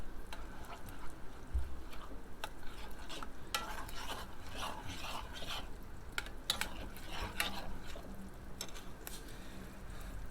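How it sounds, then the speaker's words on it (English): Hominy and pork chops simmering in a cast iron skillet, a soft, steady sizzle close by with intermittent scraping and stirring clatter of a utensil against the pan. "and this hominy, see how it's simmering"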